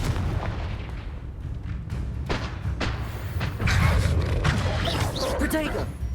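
Confringo explosion spell from a wizard video game: a run of booming, thudding blasts and crackles amid constant busy battle noise, loud and close, with shouted spell names layered over the action.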